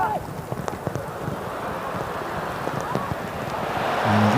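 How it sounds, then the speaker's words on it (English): Heavy rain pours steadily over a football stadium during a preseason friendly between FC Tokyo and Borussia Dortmund, a dense continuous hiss with faint crowd murmur and a rising gust near the end. "it's still lashing down with rain"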